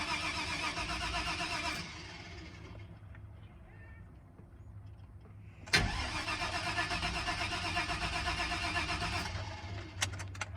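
A car engine with a low battery, fitted with a Holley Terminator X drive-by-wire system, cranks sluggishly and labors, dropping off briefly before cranking again with a sudden burst, loud and close.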